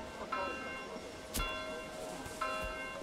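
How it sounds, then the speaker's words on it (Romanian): Church bell tolling in the medieval strategy game Manor Lords: three spaced, ringing strikes with long shimmering decay, heard over a steady ambient bed of village background noise. "De ce bate clopotul?"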